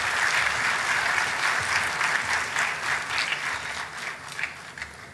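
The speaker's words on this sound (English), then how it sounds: "We request the gathering to welcome our dignitaries with a round of applause." An audience at a university industry expert talk in Pune applauds to welcome dignitaries, a steady, full round of clapping that holds throughout and eases slightly near the end.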